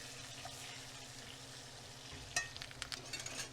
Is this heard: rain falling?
no